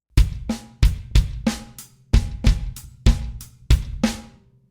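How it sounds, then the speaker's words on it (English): A drum kit plays the first three beats of a paradiddle groove, with bass drum hits under crisp snare and tom strokes in a tight repeating pattern, close and loud with no voices. "Now, beat 3 comes in with a bass drum on the E and of beat 3."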